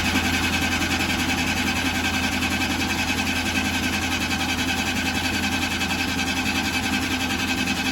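An old Ferguson tractor's petrol engine runs with a loud, steady drone and constant mechanical vibration that holds evenly throughout, with no clear breaks in the sound.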